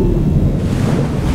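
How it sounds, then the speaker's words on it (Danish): A grey whale blowing out through its blowhole in a cartoon scene, a loud, close, breathy rushing whoosh of air and spray that holds steady for over a second with no talking. "Skræmte jeg lige en gråhval, hvilket fik hende til at blæse ud af sit åndehul"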